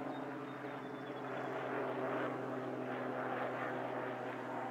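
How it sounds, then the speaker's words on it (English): A steady, droning rotor and engine roar of an aircraft passing overhead, loud and sustained throughout with a slight swell in the middle. "I see three helicopters."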